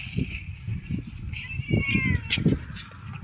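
A cat outdoors at an eco park meowing repeatedly, rising and falling calls heard close over a busy background of chatter and murmuring voices.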